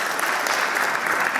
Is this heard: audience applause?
yes